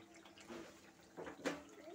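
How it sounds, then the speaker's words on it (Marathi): Water poured into egg curry simmering in a pan makes a quiet, brief splash and trickle lasting a couple of seconds, with a stronger pour near the end. "यामध्ये आपण थोडा पाणी घालू"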